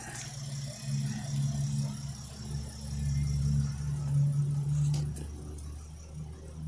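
A 2022 Nissan Frontier SV crew cab 4x4 with a 3.8-liter V6 idles steadily, a low, even engine hum heard up close and fairly quiet, with faint rattles over it.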